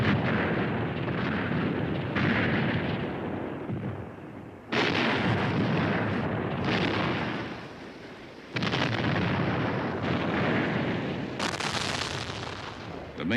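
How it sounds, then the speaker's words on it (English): Vietnam War artillery duel in Laos, tanks against artillery, with a continuous roar of heavy guns and explosions, loud and dense, rising in fresh waves every few seconds with no talk over it. "The battle escalates, tanks against artillery. American gunners inside South Vietnam increase their fire. Communist artillery responds in a long-range duel."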